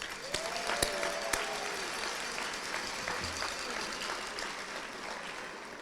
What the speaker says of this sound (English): they need one loud round of applause